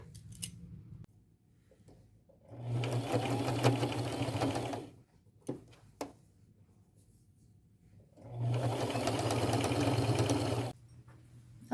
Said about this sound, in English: I will stretch it to full capacity and sew.